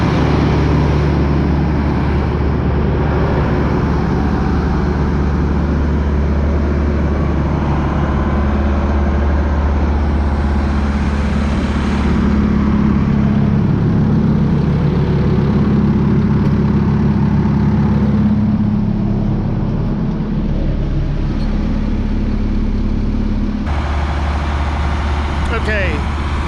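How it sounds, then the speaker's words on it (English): Three tractors run together at idle during snow-clearing work, producing a continuous deep, heavy engine rumble that stays steady and close throughout. "3 tractors started now."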